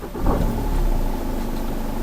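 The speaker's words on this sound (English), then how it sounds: "let me just start the engine" A car engine runs at a steady mid-pitched rumble with a slight rev near the start, loud and close, with no voices.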